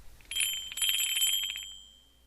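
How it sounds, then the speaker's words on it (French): A bright bell chime rings out as a page-turn cue in a spoken piece about Chopin, with sustained high ringing overtones that fade gradually. "quand vous entendrez un son de cloche, c'est qu'il sera temps de tourner la page"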